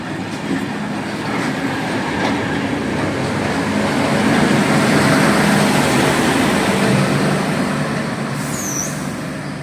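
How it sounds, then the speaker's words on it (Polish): A diesel locomotive runs through a railway station without stopping, a loud continuous rumble with rattling wheel noise close by, holding steady for the whole stretch. "jeszcze przelot lokomotywy spalinowej."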